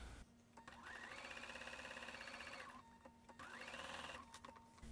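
Sewing machine piecing quilt blocks with a scant quarter-inch seam allowance: two runs of steady, close motor whir and rapid needle chatter, separated by a brief pause, with no talking.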